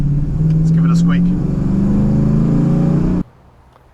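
An LS3 V8 engine in a Land Cruiser that began life as a BJ42 with an extra cab, revving loud and close in a sustained rising drone that cuts off abruptly, leaving quiet idle.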